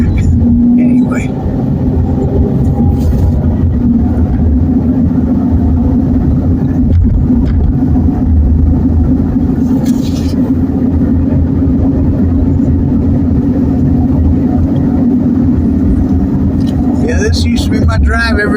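A car drives along a road in Sarasota with a steady low engine and road rumble throughout. Someone talks over it inside the cabin.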